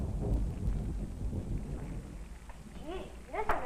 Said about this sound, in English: Gee, listen to that thunder.